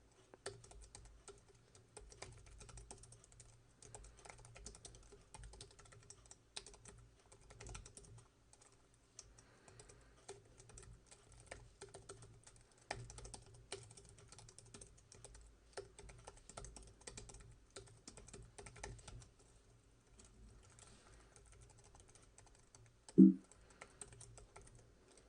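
Typing on a computer keyboard while writing simple HTML goes on for some time, with quiet, irregular key taps, short pauses, and one louder keystroke near the end, with no talk.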